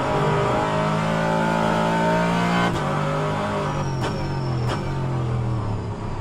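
A race car at an SRO endurance championship round accelerates hard past the listener, its engine note climbing through several gear changes with sharp shift breaks. It is loud and close, with no voices.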